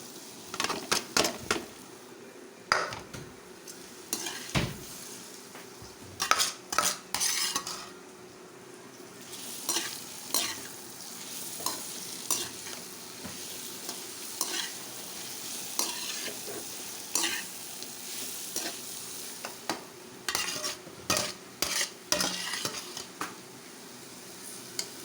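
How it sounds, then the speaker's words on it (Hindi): Raw mangoes tipped into a pan and stirred, a long run of irregular metal scrapes and clatters over a soft, steady sizzle, close and moderately loud. "बस अब इसमें मैं ये सारी कैरियाँ डाल रही हूँ।"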